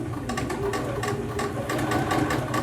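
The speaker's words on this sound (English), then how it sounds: "start sewing with a 1/4 inch seam" Close, steady whirring of a sewing machine running a quarter-inch seam along quilt fabric strips for a nine patch pillow, a continuous fast mechanical hum with rhythmic needle ticking.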